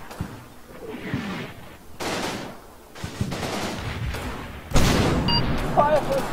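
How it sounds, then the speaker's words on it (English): Mortar rounds from a barrage land in the Combat Mission Fortress Italy war game at San Pietro, giving a string of sharp blasts and rattling reports, with a heavier boom near the end. "I know where the next mortar barrage is landing"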